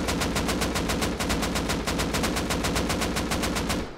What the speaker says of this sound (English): Shoot this AK and try to hit it, like, control it on the dot as best you can